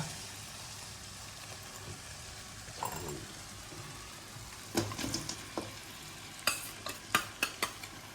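Salted, turmeric-boiled country chicken pieces tipped into a wok and stirred, a faint sizzle building into a cluster of sharp spoon scrapes and clatters near the end, close up and without speech.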